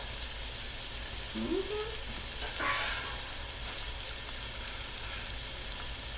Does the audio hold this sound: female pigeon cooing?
no